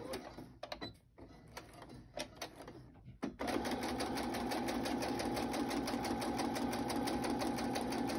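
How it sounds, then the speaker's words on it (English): A sewing machine stitches a single line across the top of a book-page envelope pocket, its rapid, steady mechanical chatter starting after a few seconds of quieter handling sounds and running loud and close to the end. "I'm going to go ahead and sew my one line across the top."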